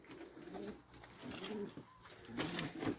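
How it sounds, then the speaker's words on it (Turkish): Tumbler pigeons cooing in soft, throaty, repeated calls, fairly close, with a faint background hiss and no talking. "İşte oyun kuşları bunlar."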